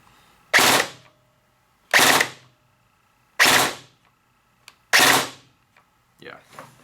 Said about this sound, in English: if I pull the trigger once and I try and pull it again, it's only going to shoot the 2-round burst